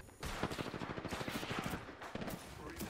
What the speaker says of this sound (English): There are two teams shooting at us.